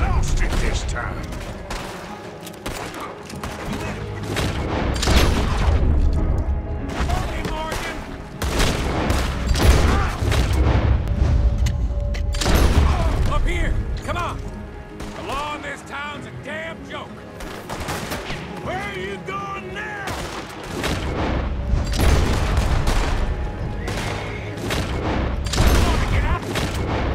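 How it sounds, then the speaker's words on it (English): A Wild West town shootout in Red Dead Redemption 2 brings repeated volleys of gunshots and heavy booms in waves of loud bursts, with quieter lulls between, against a rumbling backdrop. "Nice shooting."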